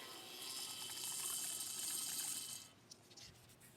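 Engine oil gurgles and trickles as it is pumped out through a tube from a Briggs & Stratton 300E series lawn mower engine, a steady watery hiss for over two seconds that then stops, leaving a few faint clicks.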